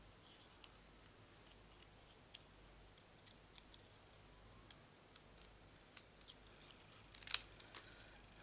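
Scissors cut out a paper butterfly from Stampin Up Thoughtful Blooms cardstock, producing faint, sparse snips and ticks at irregular intervals, with a slightly louder cluster near the end and no talking.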